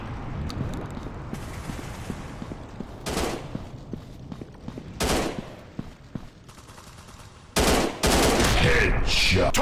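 Gunfire from the FPS mobile game Gun Strike Shooting 3D: a few loud single shots punctuate quieter clicks and mechanical rattling, ending in a sustained loud blast.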